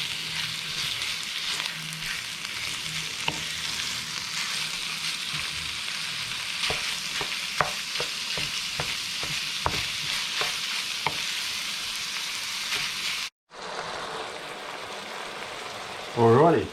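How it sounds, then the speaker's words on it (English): Steady, close sizzling of minced pork frying in a pan with onion and garlic, with scraping and stirring clicks throughout as the mince is broken up, then a brief cut before the sizzle resumes. "mince has just been sort of frying away there for a couple of minutes"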